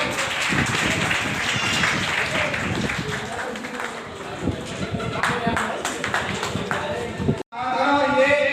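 An audience applauding to honour girls at a Knowledge Day gathering, sustained clapping throughout with a voice speaking over it and a brief cut near the end.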